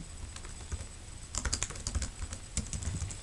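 Typing on a computer keyboard while entering values into MathCAD, with light scattered clicks at first, then denser bursts of keystrokes, close and fairly quiet, with no voices.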